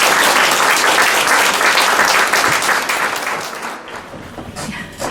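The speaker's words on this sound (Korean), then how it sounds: "작가님을 큰 박수로 모셔보겠습니다." An audience at a book concert claps to welcome the author onstage, loud dense applause that stays full for several seconds, then gradually thins and fades out.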